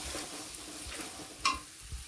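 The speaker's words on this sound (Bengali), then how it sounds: "এবার আমি মিশিয়ে রাখা মশলাটা দিয়ে দিলাম," Spice mix stirred into chopped tomatoes frying in a kitchen pan: a steady, close sizzle with stirring throughout and one brief utensil clink partway through.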